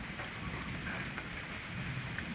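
Returning monsoon rain in Konkan during a stormy spell: a dense, even wash of rainfall pattering on surfaces, steady and moderately loud with no distinct drops standing out, no voices.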